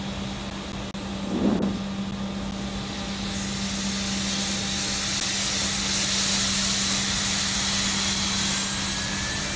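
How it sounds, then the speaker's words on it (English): Simulated Embraer E-175 engine number one starting up in Microsoft Flight Simulator, a rising jet whine and rushing roar that builds steadily over a constant cockpit hum and keeps getting louder. "turn on the engine number one, let that start up, so we are ready for our taxi."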